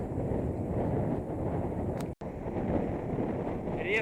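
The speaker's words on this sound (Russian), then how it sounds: "Ветер встречный." Strong headwind buffets a moving vehicle on an open road before a storm, a steady loud rushing roar that cuts out for a moment midway.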